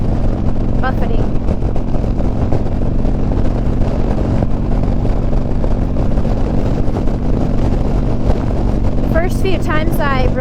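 Wind buffets and roars steadily against a motorcycle helmet while riding behind vehicles, a heavy low rumble with engine drone throughout, and a voice talks over it.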